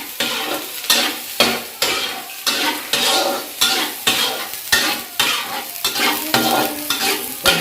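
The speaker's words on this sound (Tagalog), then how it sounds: "Pag-browning natin guys yung ahos tapos yung Bombay" Garlic and onion browning in a pan for a crab dish, a steady sizzle broken by repeated scraping stirs at a fairly quick, regular rhythm, close and loud, with no talking.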